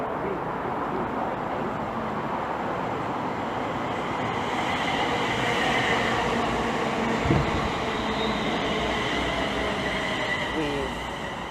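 A London North Western Railway train on the West Coast Main Line pulls into Hemel Hempstead station, a steady loud rolling rumble with a faint squeal and a brief thump near the end.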